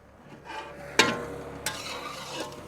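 Bambino vermicelli being stirred in a pan while cooking outdoors on the road to Chitrakoot, giving soft scraping and sizzling with two sharper scrapes of the spoon, close and fairly quiet.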